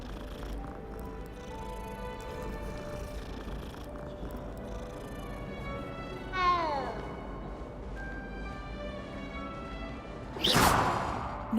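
A cat meows in the video game Hogwarts Legacy, a single rising-falling meow near the middle over a steady bed of game music and ambience, followed by a brief louder whoosh near the end.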